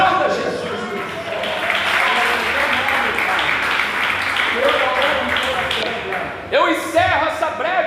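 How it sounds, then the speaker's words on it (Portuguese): A church congregation applauds during a sermon on the healing of the paralytic, a dense sustained clapping that swells and holds, with a voice breaking in near the end. "Quem crê nisso, aplauda Jesus."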